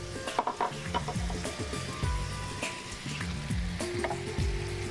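Onion paste sizzling steadily in butter in a pan, a close, continuous crackling fry with small pops and a faint repeating background tone, no one talking.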